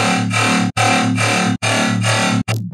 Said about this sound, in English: we're turning down the mids where the sub and the other patch live, and we're turning up the sides